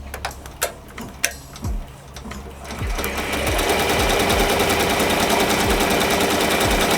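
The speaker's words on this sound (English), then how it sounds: "So right now it's stitching on all the white thread first." A Ricoma embroidery machine stitches white thread: a few sharp clicks at the start give way to a steady, loud, fast mechanical rattle of the needle that continues unbroken and close by.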